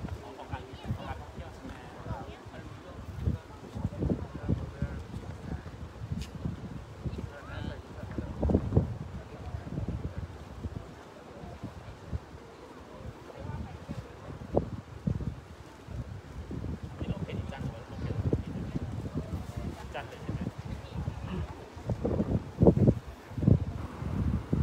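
Gusty wind at Laem Promthep cape in Phuket at sunset buffets the microphone in uneven low bursts for nearly half a minute, with faint voices in the background.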